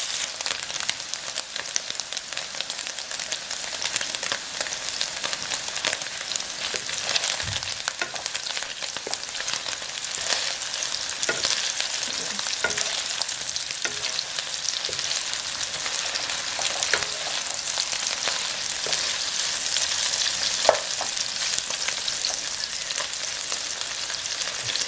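Sausage sizzling and frying in a hot pan for kimchi fried rice, a steady close crackle and hiss with occasional stirring scrapes and pops, no talking.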